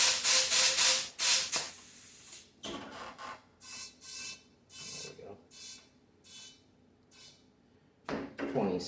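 Bursts of compressed air hiss into a snow blower tire being inflated to reseat the bead, loud at first, then a series of shorter, softer puffs followed by a final strong blast.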